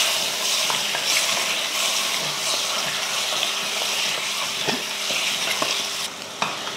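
Mutton sautéing in oil with ginger garlic paste, tomato, turmeric and salt for a mutton kulambu: a steady, close sizzle runs throughout, with occasional stirring scrapes and clicks and no talking.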